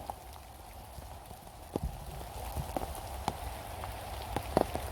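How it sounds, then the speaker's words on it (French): Rain falls steadily outdoors during mushroom picking in October, a soft constant patter with scattered louder drops tapping nearby surfaces. The sound is fairly quiet and no one speaks. "Il pleut toujours autant."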